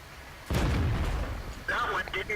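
A tank cannon fires once in the World of Tanks video game, a heavy booming blast with a rumbling tail, followed by a tonal in-game effect.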